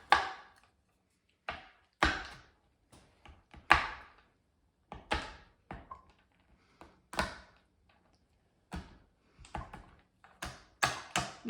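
A toddler cuts soft food in a bowl at home, producing a series of sharp, close knocks and taps in irregular bursts separated by quiet gaps, with no talking.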